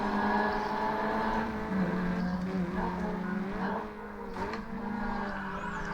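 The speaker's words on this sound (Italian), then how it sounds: "Oh, ma si sente che è più forte la macchina così." A race car engine in the video game GRID Autosport roars continuously with shifting pitch as it revs and changes gear, loud and steady throughout.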